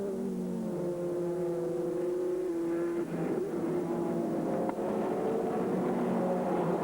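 Race cars at speed during a 2001 ALMS sports car race, a steady high engine whine holding pitch then shifting, heard at a distance with a constant roar underneath.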